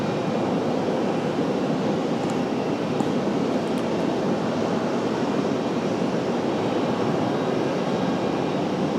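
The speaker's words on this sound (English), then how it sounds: "So JetBlue with the departure." A JetBlue airliner departing from an airport, a broad steady engine roar holding loud and even throughout, with no voices.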